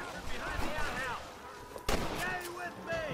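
Gunfire in the Western video game Red Dead Redemption, a few sharp shots, one especially loud near the middle, heard among talking voices.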